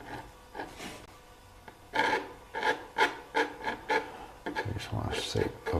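A palette knife scrapes wet paint off a canvas in a run of short, close rasping strokes, several in quick succession with brief pauses between them.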